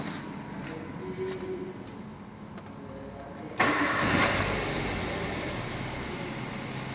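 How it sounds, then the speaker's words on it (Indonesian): A car engine cranks and catches in a garage during a scan-tool diagnostic check, a sudden burst followed by a steady, close idle that settles for the rest of the stretch. "mesin sudah bisa menyala dengan normal"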